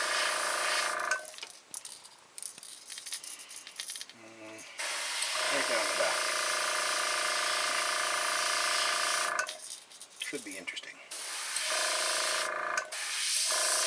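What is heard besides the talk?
spraying paint through mesh onto lure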